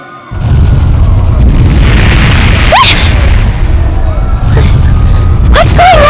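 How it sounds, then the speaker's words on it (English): Heavy cannon fire in the Ys X: Nordica video game: a sustained, loud low-end rumble of repeated booms and blasts running throughout, with brief shouted voices cutting through near the middle and end. "Sounds like screaming and cannon fire."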